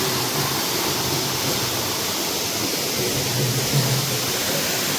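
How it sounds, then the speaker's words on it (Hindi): Raika waterfall at Jateswar Dham, a temple site, roars with steady, dense rushing water, a close and continuous wash of sound with no voices. "जटेश्वर धाम वाटरफॉल टा देख साइड रे मंदिर एटी वाटरफॉल छुआ"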